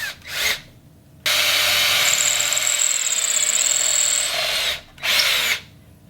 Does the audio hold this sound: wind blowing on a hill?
no